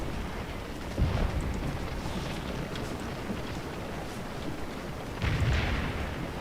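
Cannon artillery fire on a Scourge of War battlefield: two deep booms about four seconds apart, one near the start and one near the end, over a steady rumbling battle ambience.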